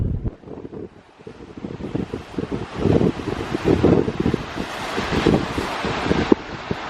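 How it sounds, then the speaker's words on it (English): Strong wind blasts across a microphone on the Lake Erie shore in cold weather, gusting in rough, buffeting bursts with a low rumble and possible surf in the background. "Oh, and it is so windy out here"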